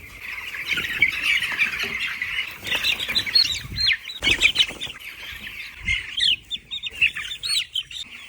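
Small chicks about eleven days old peep and chirp in high, rapid bursts, some squawky, with faint wing flutters, close by and fairly quiet, with no talking.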